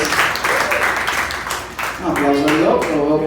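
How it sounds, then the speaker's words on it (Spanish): A church congregation claps together, a dense burst of applause in the first half that tapers off as a voice begins speaking over the room. "Dale un aplauso al Señor"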